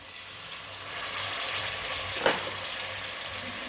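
Masala for aloo gobhi sizzles steadily in a pan, then a little water is poured in, giving a sharp hissing burst before the frying settles back to a soft crackle.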